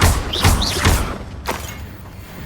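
The Confringo fire spell in Hogwarts Legacy strikes with a few heavy, close thuds in quick succession, followed by a softer boom as the impact fades.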